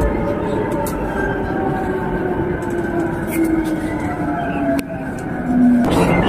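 A Tokyo commuter train running between Shimbashi and Kamata slows into a station, its steady low carriage rumble continuing throughout, with faint voices in the car and a brief shift in the rumble near the end.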